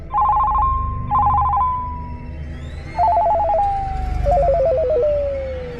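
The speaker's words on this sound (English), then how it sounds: "I then abruptly got a call on my cell phone." A cell phone ringtone for an incoming call: loud, near, warbling electronic trill bursts repeated four times with brief gaps, each burst slightly lower in pitch.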